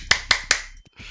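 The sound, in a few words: clapping hands like a seal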